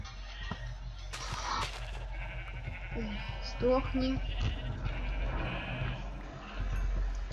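A sheep in a video game bleats several times, wavering cries sounding near and fairly clear over a low steady hum, while a person talks briefly alongside.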